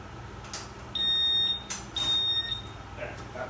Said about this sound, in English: First thing I'm going to do is take the alarm off the front disc.